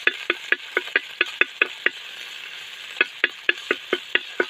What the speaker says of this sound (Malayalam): നമ്മുടെ വെളുത്തുള്ളി ഇഞ്ചി പേസ്റ്റ് അത് നമുക്ക് ഇട്ട് കൊടുക്കാം. അത് ജസ്റ്റ് ഒന്ന് മൂപ്പിക്കാം കേട്ടോ.